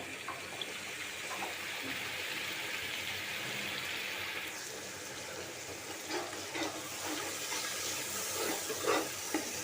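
Water poured into a cooking pot of turmeric and red chili powder spices while making chicken curry, giving a steady, broad hiss and sizzle that runs throughout, with a few sharper spatters near the end.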